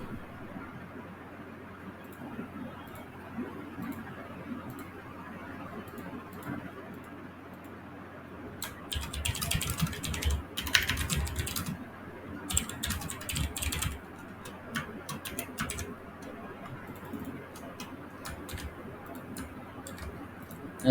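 Quick runs of keystrokes on a computer keyboard while form fields are filled in for a job posting in a web portal, steady quiet clicking with a denser, louder burst in the middle.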